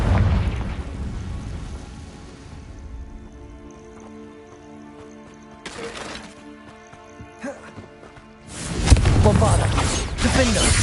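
Confringo spell explosion in the video game Hogwarts Legacy: quieter mechanical clatter and small bursts give way to one loud, sharp blast near the end that rolls out into a heavy, sustained roar.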